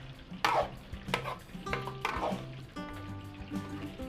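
A thick caldereta stew, thickened with ketchup, is stirred in a cooking pot: a few scraping strokes and soft wet sloshes over a low background simmer, with a faint sizzle close by.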